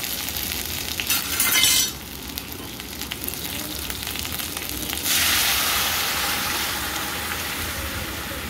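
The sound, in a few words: boiled mung dal with vegetables added to fried spices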